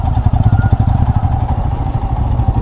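A rented motorcycle rides along a rough, broken road on a long-distance trip, its engine giving a steady, close, low throbbing chug with light rattling throughout.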